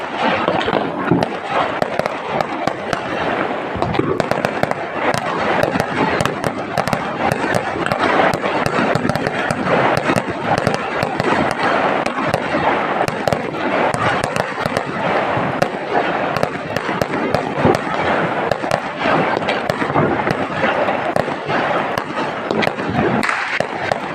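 Dense, continuous crackle and bang of Diwali firecrackers and fireworks set off on a rooftop, loud and unbroken with rapid overlapping bursts throughout.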